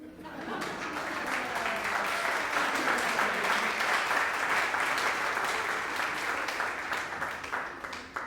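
A concert audience at a college jazz band concert gives sustained applause for graduating senior students, a dense wash of clapping that swells in after a moment and carries steadily throughout, with faint voices and a chuckle mixed in.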